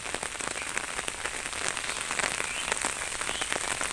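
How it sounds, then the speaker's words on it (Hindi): Steady rain in the first rain of winter pours on surfaces nearby, a dense even patter with sharper individual drops ticking throughout, no voices. "दोस्तों बारिश हो ही रही है और अभी बंद भी नहीं हो रही।"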